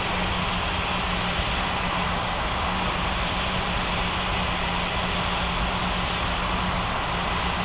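A steady, loud roar from an airliner's engines during takeoff in an air traffic control game, unbroken broadband rumble and hiss throughout, with no voices.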